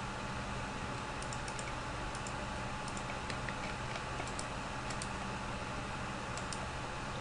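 Computer keyboard keys tapped in short irregular bursts of clicks while drafting a house plan in CAD software, close and fairly quiet over a steady low background hum, with no talking.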